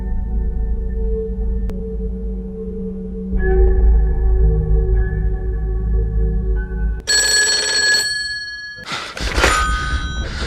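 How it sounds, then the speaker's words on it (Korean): In a thriller film, a telephone gives bright, piercing rings over a low tonal music bed. The rings come in two harsh bursts near the end, with no voices heard. "흥분된 상태로 전화를 받는 레너드"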